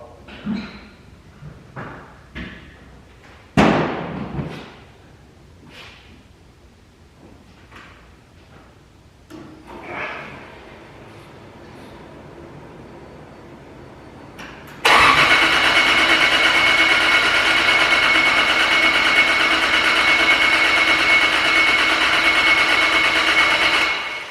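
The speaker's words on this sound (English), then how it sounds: "So time to turn the fuel on. And see if we can get it fired up." JZ-swapped car running on E85 cranks with short bursts of starter whirring and clunks, then a steady loud broadband roar holds from midway to the end, close by with no talk.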